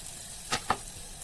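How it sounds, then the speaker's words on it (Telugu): Chopped green chilies fried and stirred in a pan, a faint low sizzle with two quick scraping clicks of the spoon close together near the middle. "తరిగి పెట్టుకున్న పచ్చిమిరపకాయలు 3 వేసుకొని కలుపుతూ బాగా వేయించుకోవాలి"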